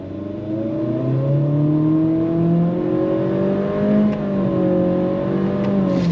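A 2025 Acura ADX A-Spec SUV accelerates hard on throttle, its engine note rising steadily in pitch over about six seconds with a brief dip midway, loud and close from inside the cabin, no talking.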